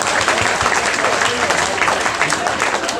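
Dense, loud applause from a crowd at the Shaheen Bagh protest in Delhi, steady and sustained clapping throughout with no break.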